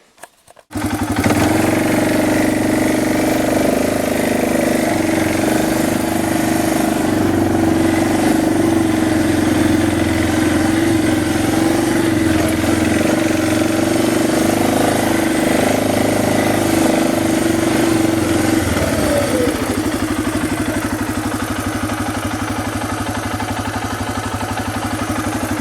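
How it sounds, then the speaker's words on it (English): A four-wheeler ATV engine starts and is driven up close for about 35 yards around, holding a loud, steady droning idle and running hum. The pitch drops and shifts near the end. "just going to drive with the four-wheeler for a little bit here."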